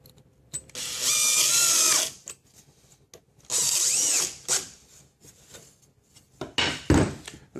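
A power drill fastens a saw guide back down on a wood-trim cutting setup. Two close, whirring bursts of about a second each are separated by quieter handling clatter, and a brief rattle follows near the end.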